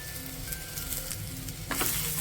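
Taro root pieces fry in a pan with onion, turmeric and curry leaves, giving a steady close sizzle with occasional stirring scrapes and a brief louder burst near the end, no talking.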